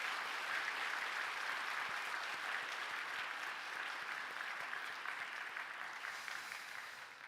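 A church congregation at a New Year special dawn prayer meeting bursts into steady, dense applause that holds for several seconds and slowly fades, with no voices over it.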